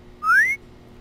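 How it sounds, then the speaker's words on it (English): A single short, rising whistle from the player character in the horror game Madman, clear and close over a low background hum. "I can try to whistle."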